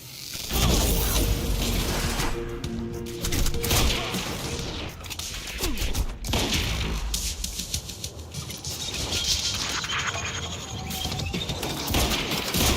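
Loud, continuous gunfire fills a Quantum Break video game firefight, dense rattling shots mixed with crashes, clanks and impacts throughout, with faint shouting in the background.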